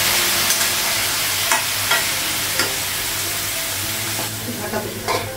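Drumstick vegetables fry in a pan as a little water is added, giving a loud, steady sizzle and hiss with occasional scraping stirs and light clinks throughout.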